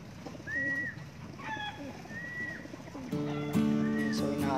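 Racing pigeons coo in short, rounded phrases against a steady background hum, with a louder, sustained cooing burst near the end; no one speaks over them.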